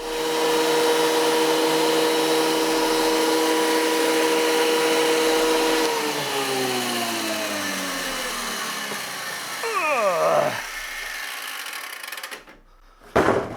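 A thickness planer runs beside a heavy wooden slab at a workbench, giving a loud, steady motor drone that winds down after several seconds, followed by a brief rattle and a quiet stretch near the end.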